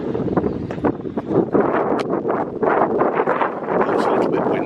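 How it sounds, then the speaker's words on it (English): Wind gusting outdoors beside a church on a Saturday morning, buffeting the microphone in irregular rushes, with a person talking over it. "It's a little bit windy"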